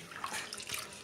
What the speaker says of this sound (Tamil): போர் தண்ணி தான் ஊற்றி நல்லா கழுவுறேன் பாருங்கள்